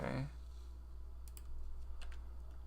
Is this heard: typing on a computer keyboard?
yes